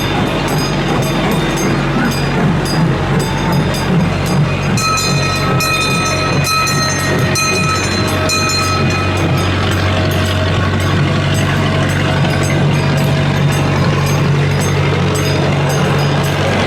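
A small amusement park train ride rolls steadily along its rails with constant rumbling, clanking and rattling, loud and close, plus occasional squeals and a faint crowd of voices behind it.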